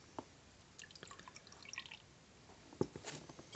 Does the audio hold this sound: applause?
no